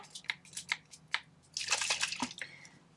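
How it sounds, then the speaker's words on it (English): Water misted from a spray bottle onto a shiny blue giraffe ornament with coloured bumps: a series of short sharp pump clicks and spritzes, then a longer hissing burst of spray, close and fairly loud. "I'm just going to give him a bit of a spray with some water."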